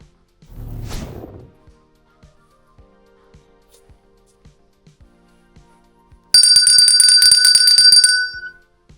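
An electronic bell rings loudly and steadily for about two seconds near the end, with a short rustle early on and faint clicks in an otherwise quiet room.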